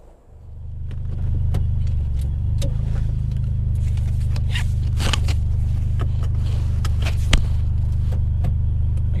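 A black Mitsubishi Evo X with an SST transmission starts moving off, its engine rising into a loud, steady drone with small clicks and rattles on top.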